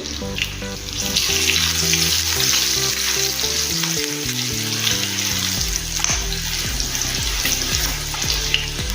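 Curry leaves and green chili, along with mustard seeds and asafoetida, sizzle loudly and steadily in hot oil, a close, constant crackling hiss with soft music underneath and no speech.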